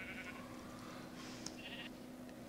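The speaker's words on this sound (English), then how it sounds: "whatever you do, do not run off, you stupid sheep" Sheep in the Minecraft video game bleat over a steady game hum, a few short wavering calls close by with no talking.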